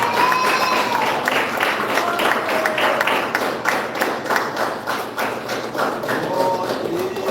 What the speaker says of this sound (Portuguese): Bate as palmas e exalta o nome do Senhor Jesus.